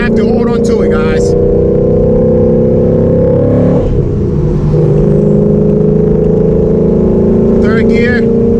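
An 800whp Ford Mustang accelerating hard with traction control off, its engine droning loud and steady from inside the cabin, pitch climbing then dipping through a shift before rising again, with someone speaking briefly over it.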